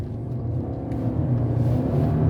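A car with a modern CVT accelerates hard up a highway on-ramp behind vans, its engine droning in a steady, rising rumble from inside the cabin with no talk.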